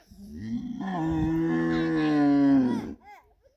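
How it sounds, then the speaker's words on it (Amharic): A single long, loud bellow from an ox, deep and drawn out for about two seconds, close by, ending with a short trailing snort. "በሬው እያገሳ"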